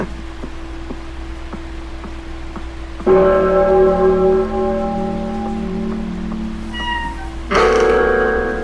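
A bell chimes in the video game Pocket Mirror, a sustained tone with ringing overtones that sounds clearly after a quiet stretch, followed by a brighter second strike.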